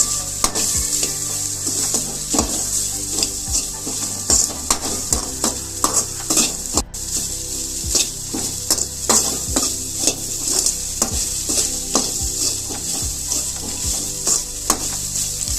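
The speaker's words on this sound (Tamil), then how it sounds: "கூடவே நம்ம எடுத்து வச்ச சோயாவையும் சேர்த்து நல்லா வதக்கி எடுத்துக்கலாம்" Soya chunks fry in a pan with chilli powder under a steady bright sizzle, while a spoon stirs and scrapes against the pan in repeated knocks throughout.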